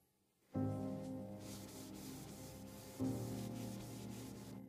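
Katana blade being polished with crystal wax polish, a steady close rubbing hum that starts abruptly after a brief quiet moment and surges again midway, with no talking.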